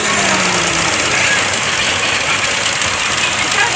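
Ford EcoSport engine with about 86,000 km running after a timing belt replacement, a steady loud mechanical rumble and hiss throughout, close up.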